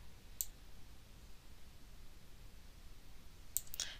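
A computer mouse gives a few faint, crisp clicks in a quiet room: a single click early on, then a quick pair close together near the end.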